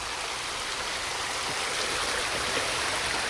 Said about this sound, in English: But yeah, the water's running good.